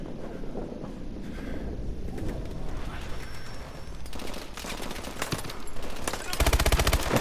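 Gunfire in Call of Duty: Advanced Warfare comes as rapid automatic bursts that build toward the end into a loud, dense stream of shots, with someone talking over the fighting.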